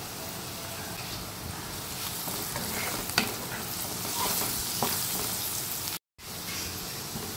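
Crushed garlic and green chili fry in hot oil with a dense, continuous hiss. Faint stirring taps ride on top, close by, and the sizzle breaks off briefly near the end with no one speaking.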